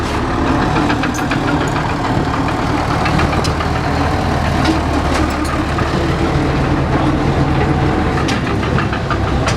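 A Frick steam engine runs steadily at a steam and gas show, a continuous mechanical chugging and rumble that stays loud and constant throughout with no talk.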